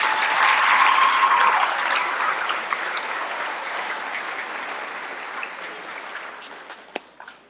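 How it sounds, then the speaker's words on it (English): Audience applause for two soloists at an elementary and junior high school band spring concert, a dense crowd clapping that starts loud and gradually thins and fades, with a few isolated claps near the end. "Can we give them a round of applause?"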